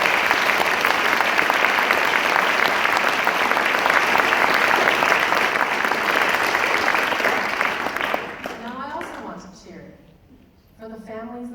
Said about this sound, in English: So I want to take a moment for all of you to cheer for the award-winning scientists that are here tonight.